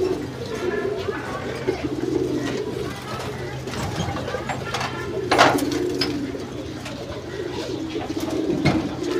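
Many pigeons on a large pigeon farm, stirred up just after being given fresh water, coo steadily and flutter throughout, with people talking over the flock.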